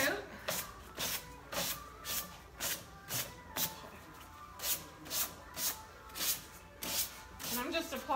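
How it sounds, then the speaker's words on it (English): A sponge rubs Dixie Belle Best Dang Wax over painted furniture in steady back-and-forth strokes, about a dozen soft, regular scrubbing swishes close up, with brief quiet talk. "Applying it with a sponge this time."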